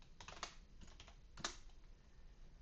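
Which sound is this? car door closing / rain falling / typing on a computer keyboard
typing on a computer keyboard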